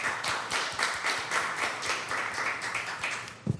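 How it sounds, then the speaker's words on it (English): A small audience claps at a talk on relationships and mental health, a loose patter of hands that holds steady for a few seconds before a sharper tap near the end. "If you would clap."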